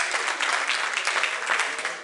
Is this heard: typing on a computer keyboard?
no